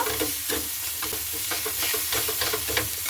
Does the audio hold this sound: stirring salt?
yes